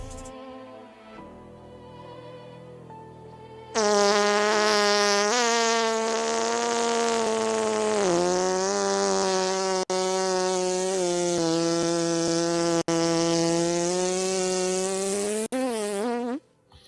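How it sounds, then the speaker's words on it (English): A long, loud buzzing drone that wavers in pitch like a bumblebee, actually an edited fart sound, starting after a few quieter seconds and cutting off near the end. "I will never get credit for making that fart sound like a bumblebee"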